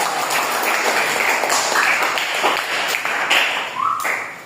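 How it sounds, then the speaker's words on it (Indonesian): A classroom of students claps for a presenting group, steady overlapping hand claps at moderate volume running for several seconds, with a few brighter taps and knocks mixed in. "Beri tepuk tangan untuk kelompok 3."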